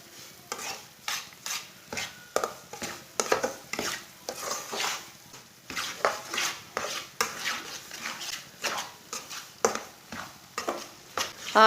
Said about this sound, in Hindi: सूजी को चम्मच चलाते हुए मीडियम आंच पर ब्राउन कर लेंगे।